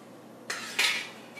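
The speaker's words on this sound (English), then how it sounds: "So I just kind of scoop it in until I reach the required amount of powder mix" A spoon scooping formula powder into a container sitting on a kitchen scale, two soft close scraping scoops in quick succession against a quiet room.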